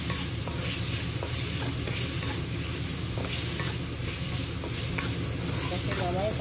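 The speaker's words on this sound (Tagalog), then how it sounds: "So yung ibigisa lang natin yung sauce." Tomato sauce sautéing in a pan, a continuous sizzle and hiss with scraping strokes of stirring, close and steady, with a voice speaking at times.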